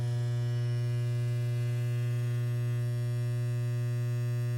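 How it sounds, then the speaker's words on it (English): Ballast of a 250 watt high pressure sodium lamp starting, a loud, steady electrical hum with a strong low buzz, constant and unchanging throughout, no talk. "this fixture here has a cycling HPS lamp in it. So you're about to see some awesome colors from this high pressure sodium bulb. So here we go with the high pressure sodium. And this has a loud ballast too."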